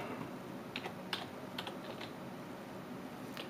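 Light clicks of typing on a computer keyboard while setting up a Windows 7 PC backup, a few quick separate keystrokes in a short burst over quiet room hiss, close and fairly soft.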